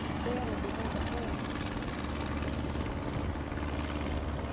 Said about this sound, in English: Banner behind the plane.